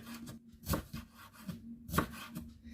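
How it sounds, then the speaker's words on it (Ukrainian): Knife chopping bell pepper into thin strips on a board for summer cabbage rolls: a few crisp, spaced chops with quieter slicing between, close and fairly soft, no talking. "Нарізаю на такі тоненькі смужечки."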